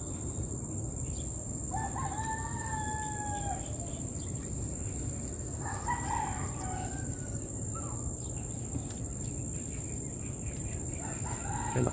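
Loud birdcalls ring out twice over steady outdoor background noise, with a constant high-pitched hum throughout.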